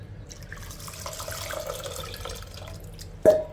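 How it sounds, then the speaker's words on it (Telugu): Water is poured into a thin tamarind lentil dal, a steady liquid pour lasting a few seconds with a small clunk near the end. "ఇప్పుడు ఇందులో మళ్ళీ నీళ్లు వేసుకొని వేయాలండి"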